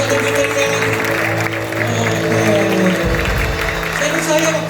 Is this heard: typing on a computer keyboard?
no